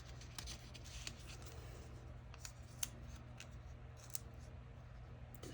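Quiet, close scissors snip through double sewn paper ribbon in a run of soft, irregular cuts over low background hum.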